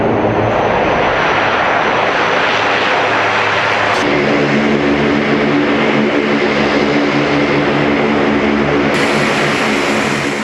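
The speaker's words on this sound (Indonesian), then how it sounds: "video pesawat bomber Amerika Serikat mendarat di Timur Tengah" A US bomber aircraft lands in the Middle East, its engines roaring loud and steady throughout with broadband jet noise and a low droning hum, the pitch shifting slightly partway through, no voices.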